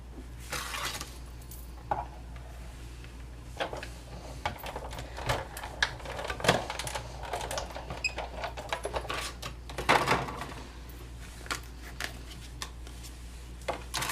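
Tempting Turquoise cardstock being positioned and punched with a scallop-edge punch on a Stampin' Up! card, a scattering of small clicks, taps and crisp clacks at irregular intervals against quiet background, no voices.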